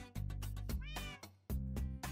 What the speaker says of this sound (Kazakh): Мысық кешір, былай тұр.